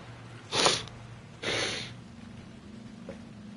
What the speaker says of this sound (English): I am actually still sniffling from sniffing too much incense at work